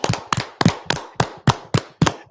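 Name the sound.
clapping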